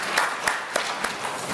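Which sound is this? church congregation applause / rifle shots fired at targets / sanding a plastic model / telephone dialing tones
church congregation applause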